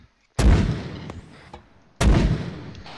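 Two heavy mortar rounds fire in the Arma 3 video game, each a loud close boom with a long rumbling decay, the second following about a second and a half after the first, with no voices.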